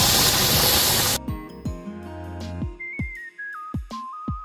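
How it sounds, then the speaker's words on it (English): Steam hisses hard from a pressure canner during home pressure canning of pea soup, a loud steady rush lasting about a second before it cuts off, followed by sharp metallic pings and a brief rising whistle-like tone. "We got our steady stream of steam happening."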